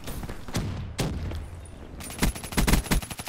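Automatic gunfire bursts from a submachine gun in Call of Duty: Black Ops III, with loud, close, rapid volleys and heavy punchy shots, sharpest toward the end.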